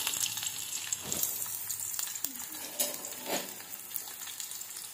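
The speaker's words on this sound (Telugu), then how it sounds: "ఆయిల్ వేడైంది ఫ్రెండ్స్, జీలకర్ర ఆవాలు వేసుకోవాలి," Onions with cumin and mustard seeds hit hot oil in a pan, giving a faint, steady sizzle with small crackling pops and stirring scrapes.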